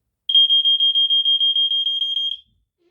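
A piercing high-pitched smoke alarm beeps rapidly for about two seconds, then cuts off abruptly into silence.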